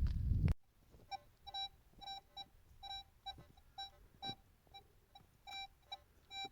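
A metal detector fitted with a Coiltek 18-inch coil gives faint, irregular electronic beeps and short tonal blips over a quiet background, after a brief louder burst at the very start.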